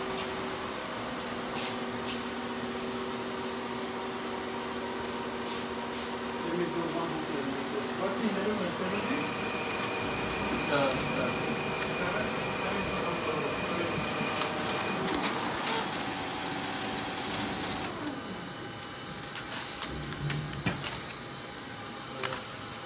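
A Xerox 700i digital color press with booklet maker finisher runs automatically, giving a steady mechanical whir with whines, clicks and shifting hums from feeding and printing, while a person talks over it.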